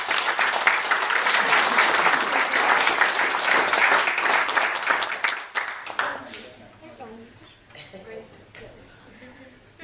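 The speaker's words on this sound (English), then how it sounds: "let's have a round of applause for them" Wedding guests at a reception in the Windrose, Carrickfergus, break into a loud, dense round of applause lasting about six seconds, then it quickly dies away to quiet room murmur and a few scattered claps.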